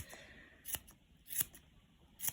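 Scissors snip macramé coaster fringe in three crisp, separate cuts spaced about a second apart, close and clear with no talking.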